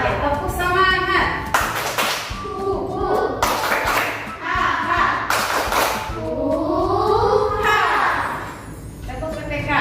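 Children in an Indonesian classroom clap a group chant in rhythm, sharp claps breaking in at irregular beats between loud, singsong voices that carry through most of the stretch.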